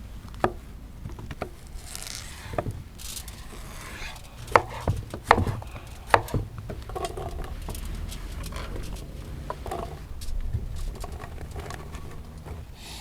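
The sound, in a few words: chopping food with a knife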